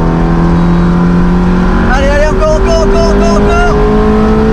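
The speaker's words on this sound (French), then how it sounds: "dès qu'on passe les 4000 tours minutes, là le moteur, les clapets s'ouvrent et le moteur change" Michael Schumacher's Ferrari road car accelerates hard, its engine note climbing steadily and loudly past the point where the exhaust valves open, as a passenger's voice urges on the driver over the rising roar.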